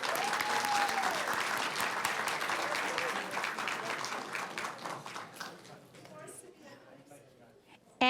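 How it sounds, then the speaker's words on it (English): A board meeting audience applauds a student, with strong clapping at first that gradually thins and fades away, before a sudden loud sound cuts in at the very end. "Let's give him a round of applause."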